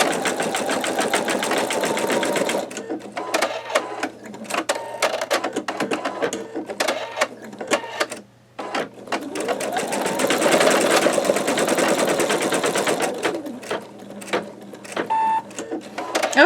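An embroidery machine stitches petals through fabric held in a MagnaHoop magnetic hoop, its fast, steady mechanical whirring and needle tapping running close and continuous, with a brief pause midway.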